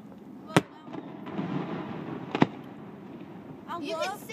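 Christmas festival fireworks over Lake Arthur, Louisiana, bang in two sharp distant booms a couple of seconds apart, with crowd chatter and voices talking throughout.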